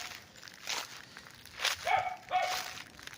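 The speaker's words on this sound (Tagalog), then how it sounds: "Ano yung aso?" A dog gives a few short barks and yips at a moderate distance, with light rustling around them, on a farm lot in Magdalena, Laguna.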